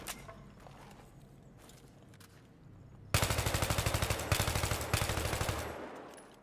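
Automatic gunfire in the video game Battlefield 3, beginning after a quiet stretch with loud rapid bursts of rattling shots from about the midpoint on, in several closely spaced volleys.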